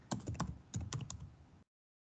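A run of close, crisp computer keyboard keystrokes in two quick clusters, then the sound cuts off to silence.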